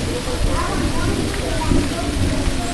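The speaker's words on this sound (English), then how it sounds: "It's starting to rain down here where we're living at." Steady rain falls during a New Year's Eve storm with a tornado warning in St. Louis, a dense, even hiss that stays close and constant, with people talking over it.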